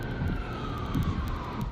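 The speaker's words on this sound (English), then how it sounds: "You can hear the wind blowing and sirens in the background." A distant siren wails faintly under steady wind noise, its tone sliding slowly, with no voices present.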